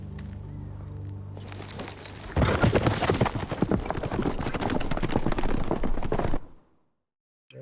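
Horses walk with a dense, loud clip-clop of many hooves that builds after a low rumble, holds steady, then cuts off.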